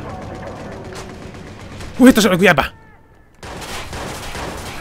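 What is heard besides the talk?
gunfire shootout in video game Watch Dogs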